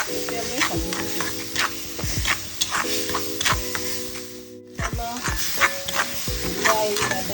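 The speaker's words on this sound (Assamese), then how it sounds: "সেইখিনি আমি যেতিয়ালৈ তেল নুঠে তেতিয়ালৈ ভাজি দিম।" Tomatoes and cashew nuts fry in oil for a fish curry, a soft sizzle with ticking spoon stirs under background music.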